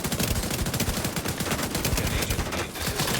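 An assault rifle in The Division 2 fires a sustained, steady burst of rapid gunshots, dense and close, with no talking.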